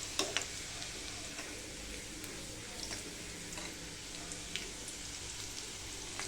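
Garlic tempering in hot oil for a sour sorrel greens dish, a quiet steady sizzle and crackle with small pops, close and without talk.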